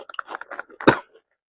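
Crunchy chicharon pork rinds are chewed up close, a quick run of crisp bites and crackling crunches ending in one loud crunch before falling silent.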